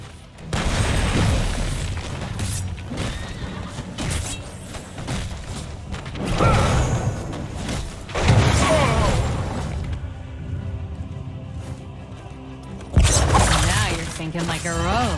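Deep booming cannon blasts and heavy thuds repeat over a busy Heroes of the Storm game soundtrack, with voices calling out between the bursts.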